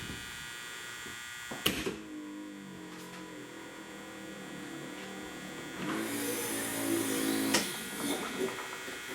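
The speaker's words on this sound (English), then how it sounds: "Now watch, we'll hit the power release now." Power trunk release on a Camaro/Firebird Trans Am hatch with new lift struts: a sharp click, a steady electric hum, then a second thunk and buzzing whir, heard close with no talking.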